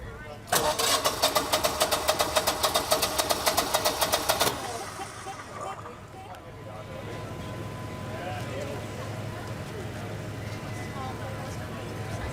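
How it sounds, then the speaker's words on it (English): An electronic fuel pump on a generator clatters in a fast, loud rhythmic ticking for several seconds, then drops away to a low steady mechanical hum. "The fuel pump seems to be making a lot of noise, which doesn't sound too good. It's an electronic pump."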